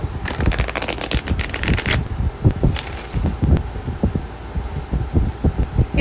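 Tarot cards being shuffled in repeated riffling bursts, crisp and close, with quieter soft handling and tapping between the bursts and no talking.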